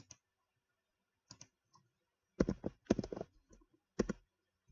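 Typing on a computer keyboard, heard as a few sparse isolated key clicks followed by a quick burst of several keystrokes and a final pair, crisp and close in an otherwise quiet room.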